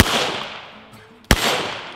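A single sharp, loud crack from a Ruger 57 pistol fired outdoors, with a brief fading echo, following a softer distant report.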